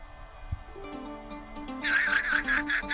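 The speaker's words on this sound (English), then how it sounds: "Turns out guanacos have kind of like a screeching sound." A guanaco gives a screeching, wavering call in open country in Tierra del Fuego, rising over a faint background and quavering in a high, bleating pattern for about a second.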